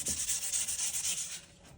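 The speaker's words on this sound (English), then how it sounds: "Sand those out a little bit." Sandpaper rubbing the wooden handle of a hand-forged axe: a brisk run of about ten close, even back-and-forth strokes with a hissy, gritty texture that slows and fades at the end.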